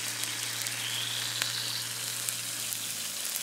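Red squirrel meat sizzles steadily in a frying pan, a constant crackling hiss with occasional sharper pops, close and even throughout.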